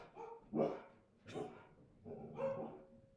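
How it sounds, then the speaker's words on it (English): Dogs bark in three or four separate bursts at moderate distance, with short gaps between them and no talking. "shut these damn dogs out"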